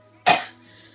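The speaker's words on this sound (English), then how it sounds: "sorry, I've got a bit of a cough." A single sharp cough, close and loud, bursts out once and fades quickly over a quiet background hum.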